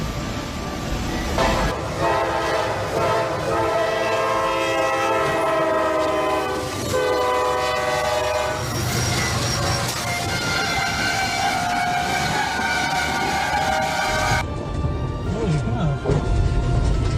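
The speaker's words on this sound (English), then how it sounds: "Looking at a Wabash Heritage unit hit a big truck and dragged it like a toy" A Wabash Heritage train sounds its horn, then slams into a big truck and drags it, loud rumbling and crashing noise over rolling rail clatter, with a voice briefly heard.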